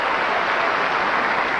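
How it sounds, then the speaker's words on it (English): A tennis crowd at Rod Laver Arena during an Australian Open quarterfinal cheers and applauds, a dense continuous roar of clapping and voices, loud and unbroken throughout. "And here's the crowd."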